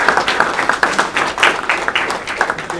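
Applause from an audience at a community presentation on a social justice complex, a dense patter of many hands clapping close and fairly loud for a few seconds.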